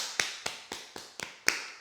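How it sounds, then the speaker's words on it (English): Hands clapping against a bare foot during a foot massage, six sharp slaps at an even, unhurried pace, close and crisp with short gaps between them. "Clap it."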